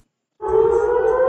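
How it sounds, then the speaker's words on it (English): After a brief silence, a warning siren in Israel starts up and holds a loud, steady wailing tone. "Warning sirens sounded across southern and central Israel."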